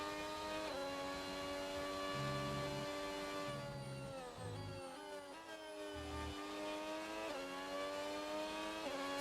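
A race car laps the Spain circuit in a racing video game, its engine a loud, steady high whine that shifts pitch as it brakes and downshifts into corners before climbing again on acceleration, with no talk over it.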